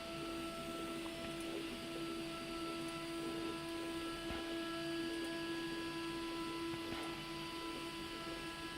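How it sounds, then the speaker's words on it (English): A Shepoko 5 Pro 3D printer hums with a steady tonal whine as its motors initialize and travel to the home position, faint and continuous with a few soft clicks. "Initialize the machine, so it's going to go to its home spot."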